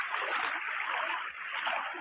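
Loud broadband splashing of a person doing a backflip into river flood water at Mahuaadhani near the Rapti river, Balrampur, with churning water continuing throughout, close and steady.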